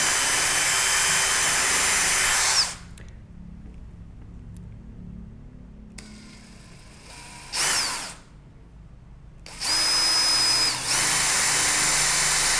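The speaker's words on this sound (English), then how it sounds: "then you drill a hole that's slightly less" A power drill whirs loudly for a few seconds drilling a hole in acacia wood, goes quiet, gives a brief burst, then spins up again for another few seconds.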